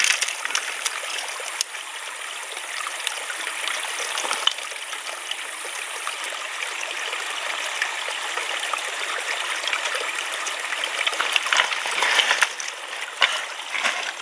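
Water flows from a hole dug in the ground with a steady, close, bubbling trickle and gush that runs continuously, with a few splashy bursts along the way.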